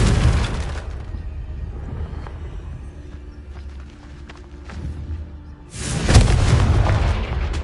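Confringo spell blasts in Hogwarts Legacy: a loud booming burst opens, fades into a low rumbling tail, then a second heavy explosion erupts near the end and rolls on.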